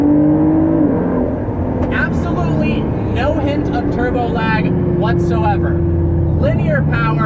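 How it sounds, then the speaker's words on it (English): A 2019 Ford GT accelerates hard at full throttle through turns, its loud engine note climbing and shifting close by while someone talks over it. "put it in sport or track mode and floor it around some turns"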